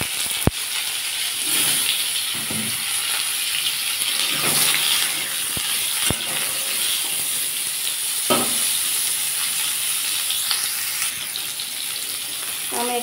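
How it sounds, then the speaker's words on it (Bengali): Raw mango pieces fry lightly in a pan after a mustard-seed tempering, giving a steady, fairly loud sizzle throughout with a few soft clinks of a spatula against the pan. "একটু আমটা একটু ভেজে নেবো হালকা করে।"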